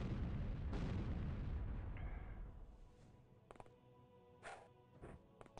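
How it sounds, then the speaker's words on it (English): A grenade goes off in the OpenXcom Warhammer 40k mod with a heavy, rumbling boom that decays over a couple of seconds, followed by a few sharp, isolated clicks and pops in quieter game ambience. "there comes a grenade already"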